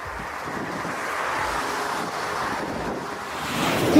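Strong gusting crosswind from Storm Xavier buffets an airliner's landing at an airport, heard as a steady, loud broadband roar of wind that swells toward the end, with no voices.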